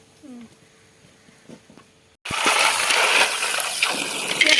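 Water gushes and splashes steadily and close by as freshly bought market produce is washed, starting abruptly after a quiet stretch with faint voices.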